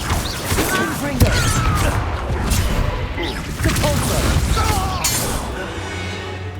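The Confringo fire spell in Hogwarts Legacy lands as loud, crashing blasts and booms in the middle of busy combat clatter, with voices talking over the action.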